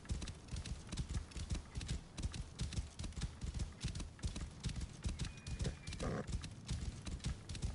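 A horse's hooves clip-clop in a steady galloping rhythm in the game Assassin's Creed Origins, close and even throughout, with a brief whinny or snort toward the end and no speech.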